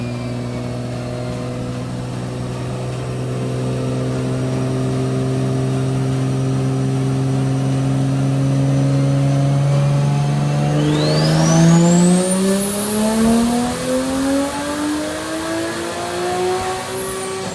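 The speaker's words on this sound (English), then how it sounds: "The M4 is on the dyno and we're gonna see what it makes." A modified single-turbo BMW M4 (F82) engine drones at steady revs on a dyno, then climbs sharply through a long, loud acceleration run to a high-pitched scream near the end.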